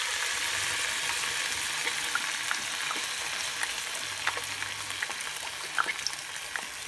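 Pre-boiled shrimp cook in a pan after fish sauce is added, giving a steady, close, gentle sizzle with scattered small pops and crackles throughout.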